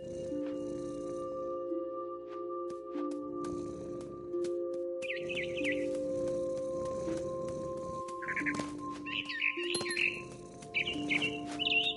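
Birds chirp in short bursts of high tweets within the video game What Remains of Edith Finch, intermittent and fairly faint, layered over steady sustained background tones and ambient game sound.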